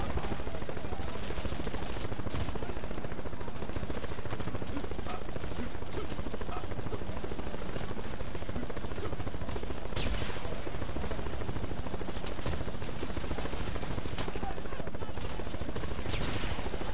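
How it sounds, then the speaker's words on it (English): A helicopter in The Expendables 2 video game fills the scene with a loud, continuous rotor roar, overlaid by bursts of gunfire throughout. "To kill this stupid helicopter."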